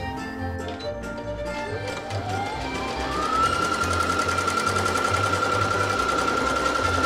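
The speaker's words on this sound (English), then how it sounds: "I'm not good at buttonholes, but this machine is supposed to be automatic" A sewing machine stitches a buttonhole automatically, its motor whirring in a steady, close run that rises in pitch and then holds at a fast, even speed with rapid needle clatter throughout.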